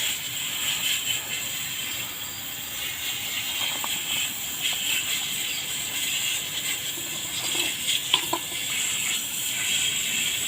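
A hose sprays water onto stainless steel motorcycle parts to rinse off pickling paste, a steady broad hiss of spray running throughout with occasional splashy bursts.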